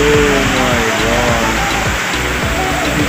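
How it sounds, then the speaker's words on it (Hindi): Steady, dense rain pours down continuously, a loud broadband hiss with irregular drips and patters close by, no voices. "बारिश"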